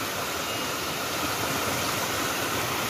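Continuous rushing water from a small jungle waterfall in North Aceh, a dense steady hiss, close and unbroken with no voices.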